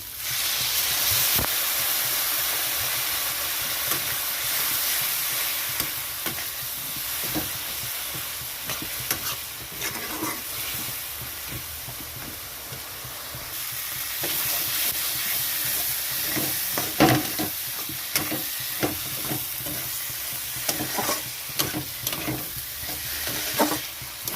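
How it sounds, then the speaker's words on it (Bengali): A splash of water poured into a spice paste frying for a fish-head curry, giving a long hissing, steaming sizzle that rises and falls, with occasional clinks and scrapes of stirring. "মশলাটা কষানোর জন্য এখানে দিয়ে দিচ্ছি একটু জল"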